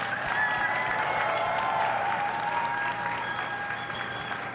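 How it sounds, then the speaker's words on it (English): An audience at a soccer event applauds two men's national team players, a dense, continuous clapping of a sizable crowd at fairly high volume, with a few faint cheers mixed in. "I think they deserve a louder applause than that."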